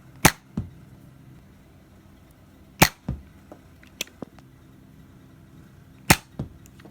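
A Nerf Jolt toy blaster fires three sharp, isolated snaps spaced a few seconds apart, each followed by faint mechanical clicks and thumps in an otherwise quiet room.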